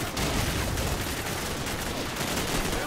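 Rapid, dense bursts of gunfire from Call of Duty 4: Modern Warfare fill a short stretch, loud and continuous with no talk over it.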